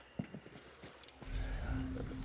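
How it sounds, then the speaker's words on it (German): In the video game Hunt: Showdown, a horse's hooves knock faintly a few times, then a low rumble and a thin neigh-like tone rise, with a voice talking over them. "das Pferd will ich nicht unbedingt ausschrecken"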